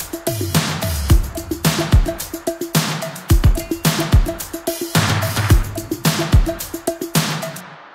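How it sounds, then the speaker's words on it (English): A Sweet Tooth drum top loop of hi-hat, shakers and tambourines with booming tom fills, in a dense, driving repeating pattern, loud and alone. "the hi-hat, the shakers, the tambourines, all of these tom fills, sounds like this."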